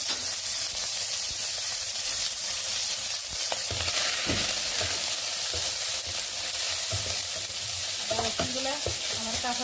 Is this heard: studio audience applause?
no